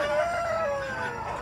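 A rooster crows once in a long, drawn-out call that holds steady and slowly fades, with a hazy outdoor murmur underneath, at a poultry market in Caruaru, Pernambuco, Brazil.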